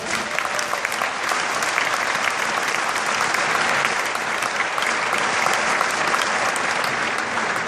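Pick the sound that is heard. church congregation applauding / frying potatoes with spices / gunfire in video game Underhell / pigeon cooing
church congregation applauding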